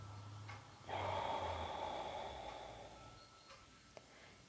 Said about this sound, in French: Inspirez. Et expirez consciemment.